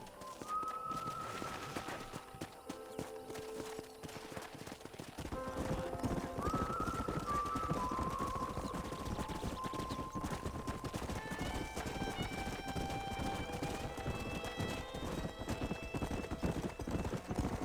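Rapid hoofbeats clatter continuously as a horse gallops in Red Dead Redemption, mixed with a whinny and layered game music swelling in the background.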